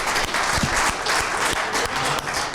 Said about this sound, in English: round of applause for Jonathan one more time